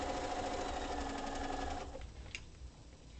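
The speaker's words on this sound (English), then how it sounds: "you're sewing so much fabric" A sewing machine stitches quilting fabric in a fast, steady hum for about two seconds, then slows and stops, leaving a quiet room with one small click.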